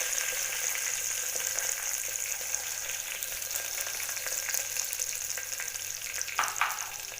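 Sliced onion and curry leaves frying in hot oil, a steady close crackling sizzle that holds evenly throughout, with a brief louder spatter near the end.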